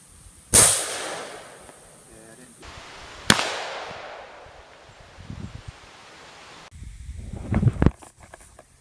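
A power-tuned .357 shot fired into a pumpkin, a single sharp crack followed seconds later by a second sharp report, with faint rustling and handling noise around them.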